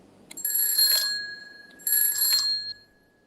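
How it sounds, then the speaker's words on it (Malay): A small bell rung twice to mark time in a pantun contest, two bright, ringing trills about a second apart, each sustained briefly before decaying, heard alone against a quiet room. "Loceng dibunyikan 2 kali."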